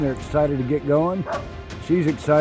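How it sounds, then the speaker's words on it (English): Sled dogs from a mushing team yip and bark in excited, high-pitched bursts just before setting off at a race checkpoint, heard close behind a person talking. "You can hear her dogs in the background."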